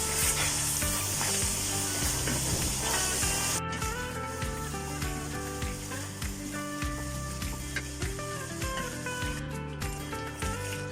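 Chicken and potato curry with masala sizzles loudly in a pan, a dense hiss that eases slightly partway through, with steady stirring scrapes and no talk over it.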